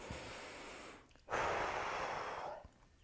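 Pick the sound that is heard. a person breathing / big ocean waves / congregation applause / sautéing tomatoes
a person breathing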